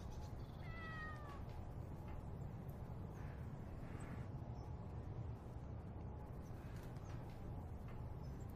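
A single cat meows once, a short wavering cry early on, faint against a steady broad background hum that continues throughout.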